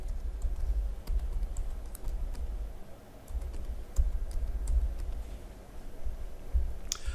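Keys are typed steadily on a computer keyboard while an IP address for a storage system is entered. The quick, soft clicks run continuously at close range in a quiet room.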